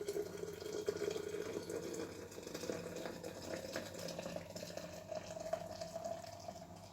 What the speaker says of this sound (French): Vous versez ça dans un récipient